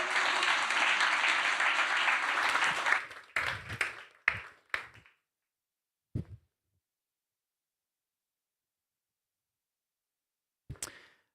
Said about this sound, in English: So big applause to Lucas Deman